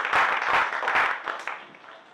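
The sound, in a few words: audience applause at a theatre show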